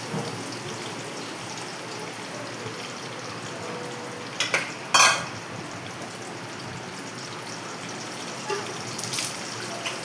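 Country chicken fries in a pan with a constant, even hiss, interrupted by a couple of brief louder bursts midway, with no voices.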